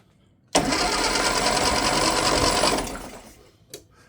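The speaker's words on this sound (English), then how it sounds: "so I'll now start the car" A vintage MG VA car engine cranks over with a sudden loud whirring churn that runs for a couple of seconds, then fades out with a faint clunk.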